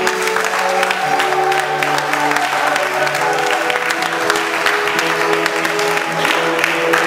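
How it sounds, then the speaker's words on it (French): A church congregation applauds and cheers loudly and steadily for several seconds, with sustained voices and tones ringing through the dense clapping. "Acclame une fois de plus le Seigneur. Acclame très fort."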